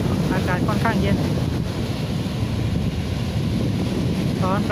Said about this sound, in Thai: นี่ครับตอนนี้ก็ลมพัดเย็นครับอากาศค่อนข้างเย็น